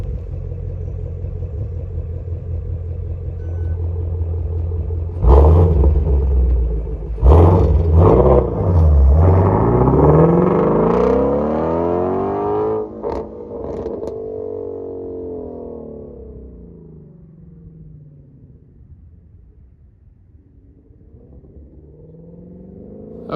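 A Shelby GT350 with MBRP resonator delete, stock mufflers and active exhaust open does a full-throttle pull, a loud rumbling idle rising into hard revving acceleration that climbs in pitch, then fading as the car moves away.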